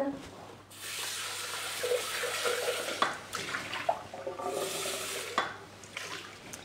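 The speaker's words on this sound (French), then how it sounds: "je vais juste rincer un peu mon bol" Tap water runs steadily into a Thermomix bowl as it is rinsed indoors, a soft hiss with light splashing and occasional knocks of the bowl, fairly quiet.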